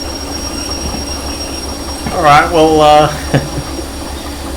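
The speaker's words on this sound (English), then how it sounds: "Oh, now the engine is just freewheeling. We have no traction motor." A train locomotive in a video game rolls along freewheeling with its traction motor offline, a steady rumbling drone with a brief tonal whine partway through, while someone talks over it.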